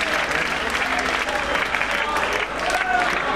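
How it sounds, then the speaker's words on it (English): Concert crowd at a live rock show in Athens clapping and cheering, a dense, steady wash of applause filling the whole stretch at moderate loudness. "Give yourselves a round of applause."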